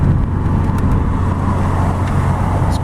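Steady low engine drone and road rumble heard from inside a 1986 Volvo 240 244DL sedan driving smoothly on the road, constant and fairly loud with no talk.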